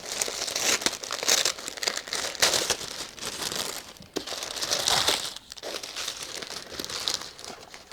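Good-quality tissue paper crinkles and rustles close up as a luxury item from Victoria Beckham or Alexander McQueen is unwrapped, steady crackling bursts over about eight seconds with no talking.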